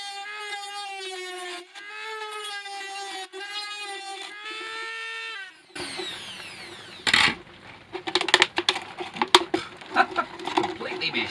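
Cutting off the bottom of a plastic plant container: after a stretch of voiced, tonal sound, a hard crack is followed by a run of sharp snipping and crunching bursts, close and loud.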